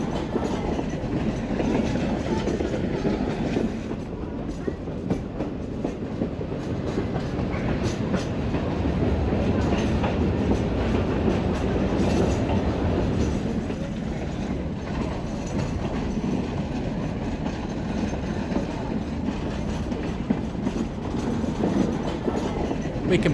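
Zig Zag Railway train rolling through spectacular countryside near Katoomba, a steady close rumble with clickety-clack wheel rhythm on the rails, continuous and loud throughout with no talking.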